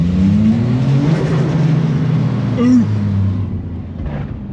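A drift car's engine revs hard inside a tunnel in Japan, loud, close and sustained, with a sweeping rise in pitch near the end; one person briefly exclaims over the roar.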